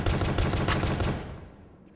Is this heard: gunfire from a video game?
yes